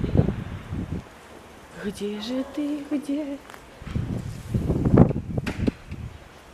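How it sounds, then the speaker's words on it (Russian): Gusty wind buffets the microphone outdoors in Spain in low rumbling bursts, with a voice calling out over it. "Ветер задолбал уже этот ветер."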